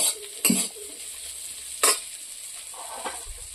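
Bitter gourd and potatoes fry in a pan with a low, steady sizzle, broken by two sharp scrapes of a spatula stirring and a few lighter clinks.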